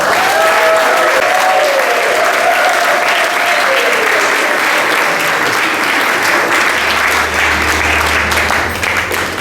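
Wedding guests applaud and cheer the couple in a loud, dense, steady round of clapping that runs the whole time, with playful shouts and voices rising over it.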